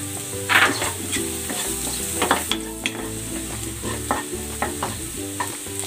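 Garlic frying in a pan after onions, while a spatula scrapes and stirs. A loud sizzle runs throughout with repeated sharp scraping strokes close up, and no talking.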